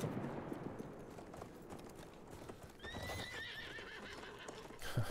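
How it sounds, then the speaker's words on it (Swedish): Horses gallop with rapid hoofbeats and give a whinnying neigh midway in the World War I shooter Battlefield 1, faint and distant over low battlefield rumble. "Ja, där kom de på häst också."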